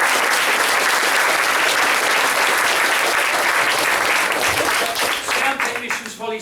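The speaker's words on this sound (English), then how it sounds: "If you could give them a little round of applause." A theatre audience at a performance of Alice the Musical gives a round of applause for the lighting crew: loud, dense clapping from many hands that holds steady, then thins into scattered claps as it dies away.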